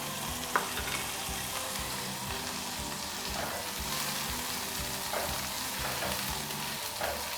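Onions and green chillies fry in a pan for kebabs: a steady, moderately quiet sizzle with occasional stirring scrapes and clicks, no talking.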